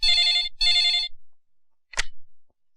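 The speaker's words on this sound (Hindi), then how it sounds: "सर, आपका फोन।" An old-style telephone rings twice in quick bursts, then a short sharp click or chime follows after a pause.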